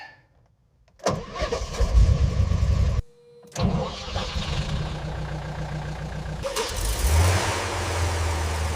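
A 440 big block V8 in a 1969 Dodge Charger cranks and fires up, stumbles, then catches again and settles into a loud, rough, rumbling idle with a rise in revs.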